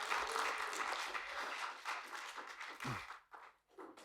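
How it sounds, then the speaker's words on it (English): Broad, steady applause from an audience fills most of the clip, thinning out toward the end. "Let's give Hannah a round of applause."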